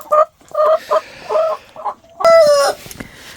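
A small blue rooster clucks in several short bursts, then lets out a loud, brief crow close by.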